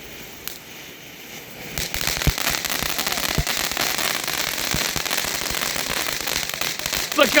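Fourth of July fireworks crackling densely and continuously after a quieter opening, a rapid spray of sharp pops and sizzles close by, with a few louder bangs toward the end.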